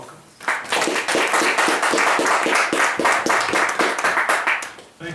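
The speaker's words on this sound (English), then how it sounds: "give Johnny a nice round of applause" An audience at a barn music venue bursts into close, lively clapping after a brief quiet start, holding strong and even before tapering off at the end.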